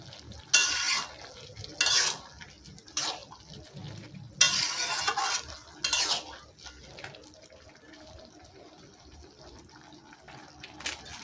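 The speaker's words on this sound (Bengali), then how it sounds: "মুড়ো দেওয়ার পর আবার ভালো করে নেড়েচেড়ে নেব, যাতে লাউর সাথে মাছটা বেশ ভালোভাবে মিশে যায়" A spoon scrapes and clatters through bottle gourd and a fish head in a pan, cooking lau ghonto. It comes in several short, sharp bursts with quieter gaps between them, close up, with no talking.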